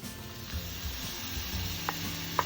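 Onion stir-frying in a pan with mushrooms and oyster sauce, a soft steady sizzle with faint stirring and a couple of light clinks of a utensil, quiet and close with no voices.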